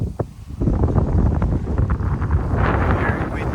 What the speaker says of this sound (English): Just ready to start paddling on Wanda into a very strong wind